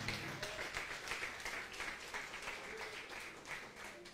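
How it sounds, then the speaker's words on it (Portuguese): Applause from a standing church congregation, a dense continuous patter of many hands clapping in a rhythmic wash throughout, fairly quiet and slightly distant. "pode aplaudir a Jesus"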